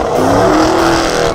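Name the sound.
race car accelerating during a timed lap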